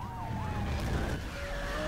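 Police car sirens wail in a Need for Speed racing game, with rising and falling tones over a steady roar of engine and road noise.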